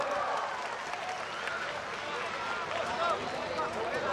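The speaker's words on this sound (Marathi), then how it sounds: "एकदा जोरदार टाळ्या होऊन जाऊ द्या" Applause from the audience at a community event in a local ward. Steady clapping fills the entire stretch at a moderate level, with a few brief tones mixed into the crowd noise.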